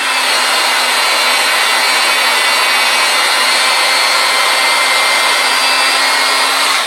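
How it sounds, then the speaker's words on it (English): A flywheel spun up in a workshop gives a steady, loud whirring hiss with a faint low hum, constant and unbroken, no voices. "as I just spun up the flywheel"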